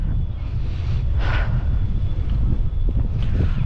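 Strong wind buffets the microphone in a continuous low rumble, with gusty roaring swells throughout and no speech.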